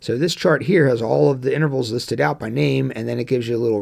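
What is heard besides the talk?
None of the usual background noises is heard.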